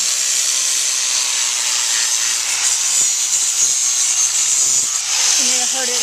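Power grinder beveling the edge of a shoe sole from the bottom, a steady high whirring hiss of abrasive on sole material, close and continuous with slight changes in pressure.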